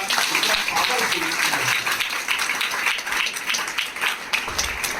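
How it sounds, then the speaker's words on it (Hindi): Audience at a seminar applauding an industry, a steady, dense wash of many people clapping throughout, moderately loud and continuous with no pauses. "एक बेहतरीन तालियां मैं इस इंडस्ट्री के लिए चाहूंगा"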